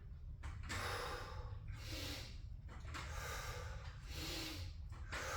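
Heavy, rhythmic breathing from someone doing hammer curls in a garage workout, a series of loud, close exhale bursts repeating every second or so over steady background noise.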